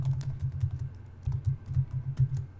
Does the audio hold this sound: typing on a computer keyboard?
yes